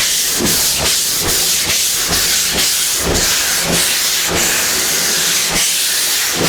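Sanding block with 80 grit sandpaper working over primer on a car body panel, giving a loud continuous rasping hiss with rhythmic back-and-forth strokes roughly every half second.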